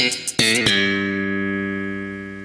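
Scene transition music from the Seinfeld TV show: a short, funky, bass-driven riff of quick plucked notes that lands on a held, ringing note and fades out, with no one talking.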